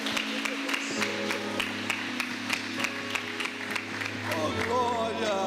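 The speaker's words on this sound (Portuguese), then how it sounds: "Aplaude o Senhor." Church congregation clapping during a Baptist worship service in Jundiaí, a rhythmic, steady beat of hand claps over sustained organ-like tones and music, ending with a voice rising near the close.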